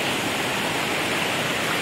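Aliwagwag Falls, a waterfall, pours in a steady, dense roar of rushing water, loud and continuous with no voices.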